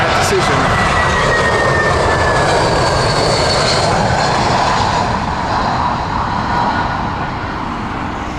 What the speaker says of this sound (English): the 787-10 from British Airways, a larger 787, the stretch version, coming in